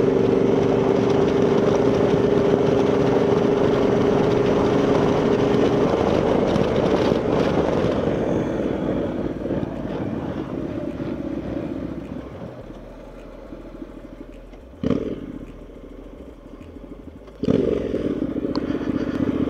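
A Honda motorcycle rides along hilly, twisting country roads, its engine droning steadily with heavy wind buffeting before easing off around the midpoint, followed by a few short bursts of revving.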